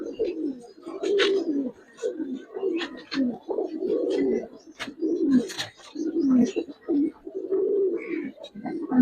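Pankhi pigeons in a loft give repeated soft, low cooing calls in short bursts. A few sharper chirps and rustles sit among them, close and moderately loud.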